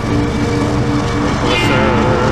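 CN freight train passing in Pointe-Claire, Montreal, with a distributed-power pusher locomotive, a loud continuous rumble and roar close by, with a voice talking over it.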